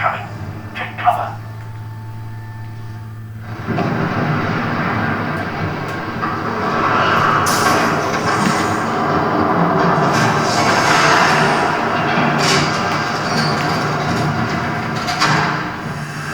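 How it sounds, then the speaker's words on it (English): A train rolls past in a video game, a loud sustained rumble and rattle that builds after a few seconds and holds steady, with a brief tonal hum at the start. "There's a train coming."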